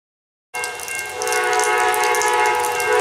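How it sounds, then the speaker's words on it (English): Northbound Amtrak 92 Silver Star passenger train passing Selma: after a moment of silence, a loud, steady roar of the approaching train rises and holds, with a sustained horn tone layered over the rumble. "here comes our train. You got the Amtrak 92, the Silver Star, northbound by Selma"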